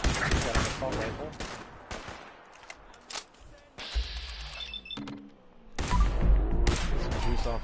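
Assault rifle fire and combat noise from Fallout 4 come in sharp bursts, fading into a quieter stretch before a heavy, loud burst of firing returns near the end.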